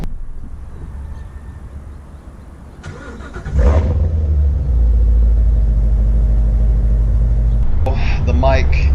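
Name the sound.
C7 Z06 Corvette engine driving off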